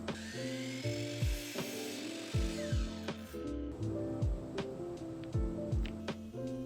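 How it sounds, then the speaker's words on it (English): A wooden dowel rod being cut into short pegs in a home workshop: a tool whines and rasps through the wood with repeated knocks and clacks, close and moderately loud, with no talking. "I eyeballed and cut approximately 3/4 inch tall pegs from the dowel rod."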